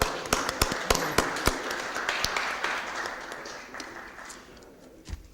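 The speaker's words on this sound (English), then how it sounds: "Let's give him a round of applause and thank you for coming, guys." A room at a city Board of Aldermen meeting applauds Reverend Moore after a prayer, with scattered loud individual claps over softer massed clapping that gradually thins and fades, ending with a final thump.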